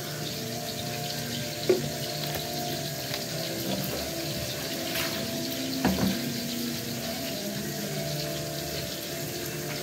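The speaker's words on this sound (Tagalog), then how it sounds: "maghugas muna tayo ng plato" Dishes are washed under a running tap at a kitchen sink, with a steady wash of flowing water and a few sharp clinks of plates partway through, close and continuous without talk.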